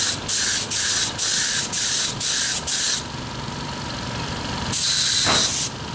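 Air hisses in short repeated bursts from the nozzle of a Lakoni Basic 25S oilless compressor with a 2.5 nozzle, about six pulses, then a steadier mechanical hum and a final louder hissing burst.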